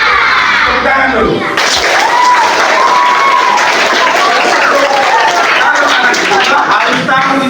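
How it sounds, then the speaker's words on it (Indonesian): Schoolchildren at an elementary school in Sikka applaud loudly during a police traffic-discipline session, a dense burst of clapping with children's shouts and crowd noise that starts abruptly and carries on steadily. "Tepuk tangan dulu."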